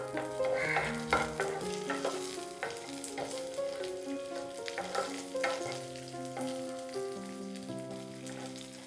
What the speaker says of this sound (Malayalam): കാഷ്യൂ നട്ട് ചെറിയ ബ്രൗൺ കളർ ആകുമ്പോഴത്തേക്കും നമുക്കതിലേക്ക് റൈസിൻസ് ആഡ് ചെയ്ത് കൊടുക്കാം.